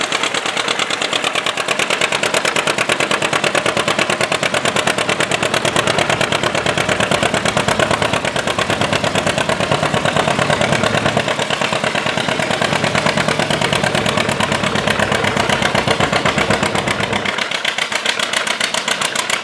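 A John Deere 620 tractor at a county fair runs continuously with a fast, even, rattling engine beat, loud and close, holding steady for the whole stretch with only slight dips near the end.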